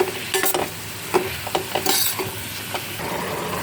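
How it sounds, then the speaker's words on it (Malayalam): Lime pickle with chili powder and turmeric is stirred in a pan, giving scattered scraping and clinking strokes over a faint sizzle, close and fairly quiet, with no speech. "നന്നായിട്ട് ഇളക്കി കൊടുക്കാം"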